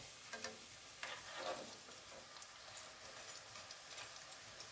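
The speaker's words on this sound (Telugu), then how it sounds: "అన్ని వైపులా తిప్పుకుంటూ మంచి కలర్ వచ్చేంత వరకు ఫ్రై చేసేసుకోవాలి" Thin snack dough strands frying in hot oil and being turned with a utensil, a soft steady sizzle with a few light scraping stirs, faint and close.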